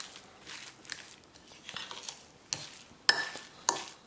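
A fork works through an avocado and potato mixture seasoned with salt and black pepper, giving soft wet scraping and squelching strokes with a few sharper taps against the bowl, close and fairly quiet.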